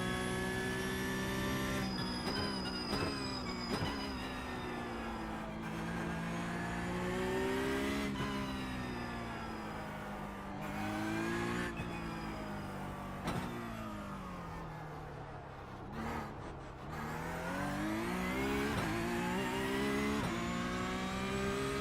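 An iRacing race car engine howls through repeated rising and falling revs as it accelerates and brakes through gear changes, loud and continuous with brief dips.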